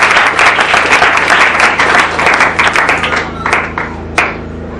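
A church congregation applauding loudly at a French-language service, dense, continuous clapping close by that thins out toward the end, with a few scattered claps and faint voices.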